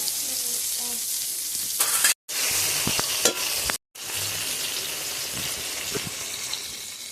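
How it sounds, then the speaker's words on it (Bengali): Pieces of eggplant fry in oil with a loud, continuous sizzle and crackle, broken by two brief silent cuts and some clattering. "এবার বেগুনগুলা ভেজে নেব"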